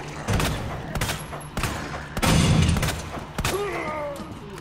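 Rapid, loud bursts of gunfire with infinite ammo in the Resident Evil 2 remake, shots firing close together in uneven clusters with heavy thumps, and a voice briefly heard near the end.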